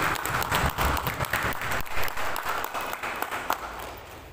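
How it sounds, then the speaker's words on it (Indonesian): Audience applause at a Pokja PAUD book launch ceremony in Paniai, a loose patter of many hands clapping with uneven swells and individual claps standing out, fading slightly toward the end. "Mari kita tepuk tangan memberikan apresiasi"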